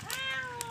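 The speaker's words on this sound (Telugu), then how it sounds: "పిల్లి చూడండి చేపల కోసం" A cat meows once in a single drawn-out, harmonic-rich call, close and clear, near a home kitchen where fish curry is being made.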